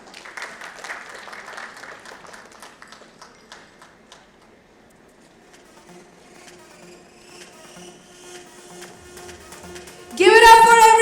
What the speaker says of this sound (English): A round of applause, everyone out here.